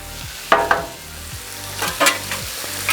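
Cheesesteak meat and cheese sauce frying on a Halo Elite 4B griddle, chopped with two spatulas held at an angle: a steady sizzle runs throughout, broken by several sharp metallic scraping and chopping hits, close and clear, with no talking.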